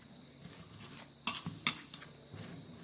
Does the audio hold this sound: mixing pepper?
yes